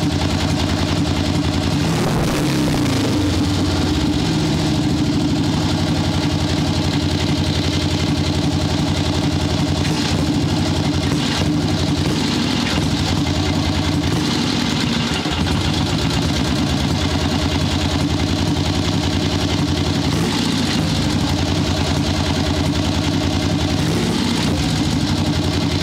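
The engine of a swap meet chopper motorcycle idles continuously and loudly during carburetor tuning, with a lean bog. A steady, rough, low rumble carries slight fluctuations throughout, with no voices.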